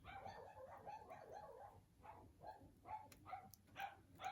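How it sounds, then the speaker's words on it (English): Several dogs bark in a home kitchen while Super Bowl snacks are being made, a steady run of overlapping barks and yips at moderate distance, rising and falling without pause. "Told you the dogs would start barking"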